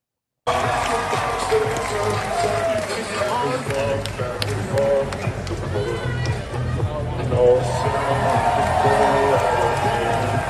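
Stadium crowd at an NFL game roars and cheers as a player pumps them up, a broad sustained swell of noise with voices talking nearby over it.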